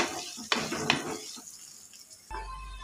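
Upma ingredients sizzle faintly in a pan while a spoon stirs them, with a couple of sharp scrapes and clinks against the metal, followed by a steadier frying hiss.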